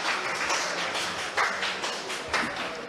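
Applause at an awards ceremony for police and social leaders, a broad wash of clapping from the gathered audience with a few sharper claps standing out, steady and fairly close throughout.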